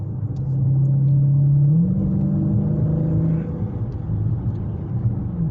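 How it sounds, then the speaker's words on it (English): A 392 muscle car's exhaust note while cruising: a steady, loud, close drone that rises in pitch briefly, then settles back to an even rumble, with no talking. "Give you a little exhaust note here and there"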